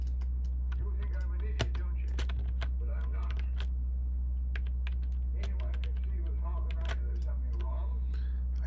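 Clicks from a computer mouse and keys come in quick, irregular bursts right up close. A constant low electrical hum runs underneath them, and someone speaks softly at times.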